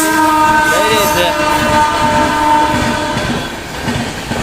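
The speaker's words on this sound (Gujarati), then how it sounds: "બાજુમાં રેલવેના પાટા છે અને રેલગાડી જઈ રહી છે." Train rolling along railway tracks beside a village temple, a loud, close rumble of wagons with horn tones sounding over it, slowly easing off toward the end.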